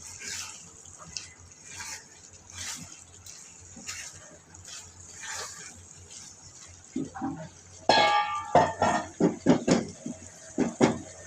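A cooking pot of simmering meat curry being handled and covered with its lid: soft scraping and dripping at first, then a cluster of bright, ringing metallic clanks close by.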